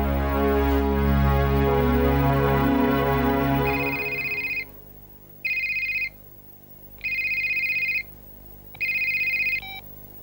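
A telephone rings in a TV drama scene, four evenly spaced electronic trills with silent gaps between them, following a burst of louder background music.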